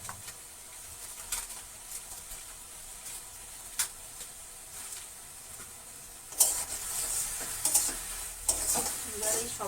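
Spices for Bengali potato curry (aloo dum), with sugar and Kashmiri chilli powder, are stirred through oil in a pan: quiet background sizzle with scraping spatula strokes that grow busier and louder near the end.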